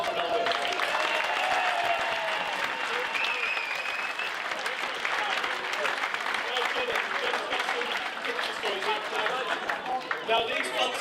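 Fans applaud at a Bury AFC end-of-season awards night, a dense, loud, sustained wave of clapping from a large indoor crowd with scattered cheers and voices underneath throughout.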